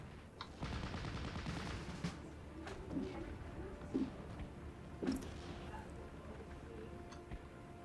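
Unit gunfire in the WWII strategy game Steel Division: Normandy '44, Normandy hedgerow battle: bursts of machine-gun fire and rifle shots crack repeatedly over a dense, continuous din of distant battle, with sharper reports standing out every second or so.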